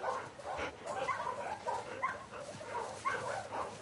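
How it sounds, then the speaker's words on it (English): A dog in the video game The Last of Us Part II gives soft barks, yips and whimpers in quick, repeated bursts at close range, with no talk. "Hey, you crazy dog."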